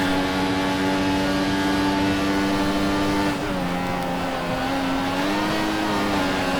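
An F1 car from F1 2014 races at Silverstone: a loud, close, continuous high-pitched engine whine that holds steady, dips briefly as if lifting off, then climbs again.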